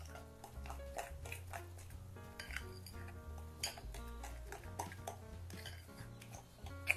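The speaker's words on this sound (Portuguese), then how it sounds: "Vamos misturar devagar, porque o amido ele faz uma sujeirinha." Cornstarch and potato dough get stirred slowly in a bowl, producing soft repeated clinks and scrapes of a utensil against the dish in an uneven rhythm, quiet and close.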